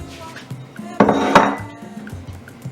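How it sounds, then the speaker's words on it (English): A seasoned goat leg goes into a cooking pot for palmnut and peanut soup, giving a few dull knocks and one louder metallic clunk-and-scrape near the middle, with faint light clinks around it. "I'll put this in my cooking pot."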